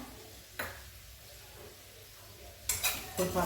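A spoon stirs butter pepper chicken with turmeric in a pan, giving a few faint scraping strokes, one early and a quick cluster near the end, over a quiet background.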